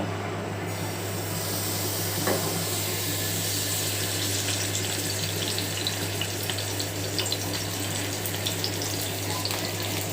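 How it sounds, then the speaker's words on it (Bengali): Marinated chicken pieces frying in oil in a pan over medium heat give a steady, close sizzle that runs the whole time, with a constant low hum beneath it. "মিডিয়াম আঁচে চিকেনগুলোকে ছেড়ে দিব।"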